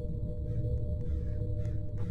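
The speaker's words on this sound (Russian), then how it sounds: "Ах ты, вороны-то уже каркают." Crows caw in the Roblox horror game Head Horse, giving a few harsh calls that are faint to moderate over a loud, steady low game drone; no one speaks.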